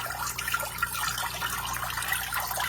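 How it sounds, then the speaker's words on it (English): Aquarium water drains steadily through a homemade siphon tube, a continuous close trickling and gurgling wash with no pauses. "I'm not going to drain it all the way, but once the water line reaches down there, it will stop"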